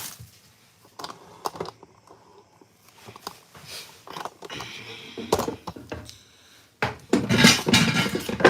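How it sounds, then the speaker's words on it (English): Pots, pans and utensils knock and clatter on a home stove while pot roast cooks, with irregular metallic clinks and scrapes that grow denser and louder toward the end. "You're gonna be hearing pans and everything knocking."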